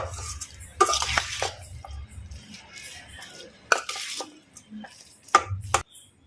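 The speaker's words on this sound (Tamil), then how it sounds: "இப்போ நம்ம சேர்த்து இந்த மசாலா தூள்லாம் எல்லாம் ஒன்று சேர சூப்பராக மிக்ஸ் பண்ணிட்டேங்க." Maggi noodles with masala powder are stirred in a pan, with scraping and clattering utensil strokes against the metal at an irregular pace, close and fairly loud.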